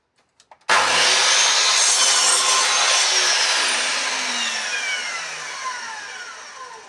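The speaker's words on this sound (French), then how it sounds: "Je vais préparer la scie pour faire ça." A saw bites into wood at a steep angle for boat building: after a few light taps, one loud, continuous cut rasps for about six seconds, easing slightly toward the end.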